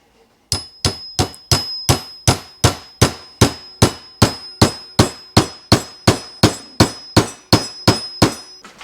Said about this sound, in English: I'm gonna have to tap it in with a hammer